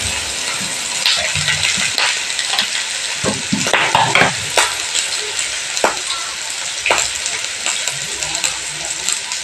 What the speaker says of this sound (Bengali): আলুটা তেলের মধ্যে ভালো করে নেড়ে নিয়ে